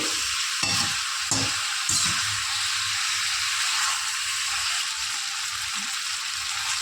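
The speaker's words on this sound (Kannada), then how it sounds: "ಈ ರೀತಿ ಫ್ರೈ ಮಾಡಿ ಎಣ್ಣೆಯಲ್ಲಿ ತೆಗೆದಿಟ್ಕೋಬೇಕು." Chicken pieces fry in hot oil for a pepper chicken gravy, giving a steady, close hiss and crackle throughout, broken by a few soft clatters near the start.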